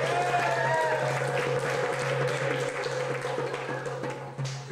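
A small theater audience at a live show claps briefly, scattered applause under a steady hum and some background murmur.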